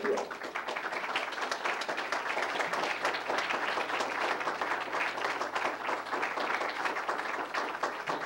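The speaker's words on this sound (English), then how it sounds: "I think all of you should stand and give a round of applause to these people who came all up here." Attendees at a 1994 Bethel Town Republican Committee candidate forum stand and applaud the visiting candidates; the clapping is sustained and even throughout, but fairly quiet and distant.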